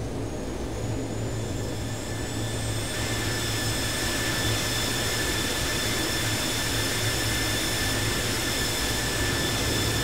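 Boeing 737-800 jet engines spool up in a flight simulator game, a steady loud turbine roar with rising high-pitched whines climbing over ten seconds, continuous and without speech.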